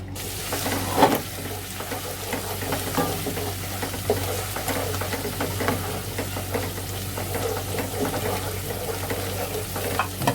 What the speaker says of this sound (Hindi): देसी घी मैंने डाल दिया और इसमें डालेंगे अदरक लहसुन का थोड़ा सा पेस्ट डालेंगे और इसको हल्का सा पका लेंगे